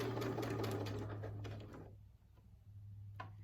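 A sewing machine stitches a square-in-a-square quilt block, whirring steadily and close up for under two seconds before stopping, leaving quiet hum and a faint click afterward.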